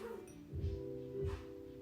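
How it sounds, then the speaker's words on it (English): A pet dog indoors at home gives two short, muffled barks about half a second apart, with a low steady hum behind them. "What are you barking at?"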